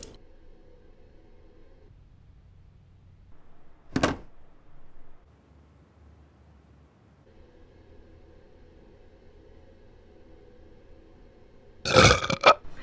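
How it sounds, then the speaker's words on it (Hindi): Burping from a player over voice chat during a mobile battle royale game, two short loud bursts separated by a long stretch of faint background noise. "तेरे डकार के वजह से तो जीत रहे हम"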